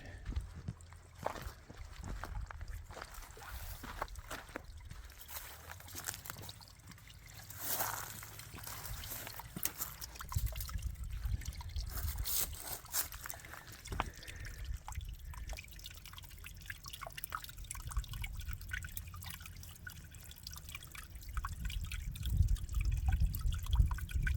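Water trickles and drips steadily on a summertime red rock hike, a continuous close wet patter with some louder splashes and outdoor rumble, with no talking.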